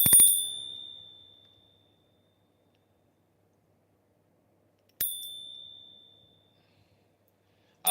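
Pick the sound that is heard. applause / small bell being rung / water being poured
small bell being rung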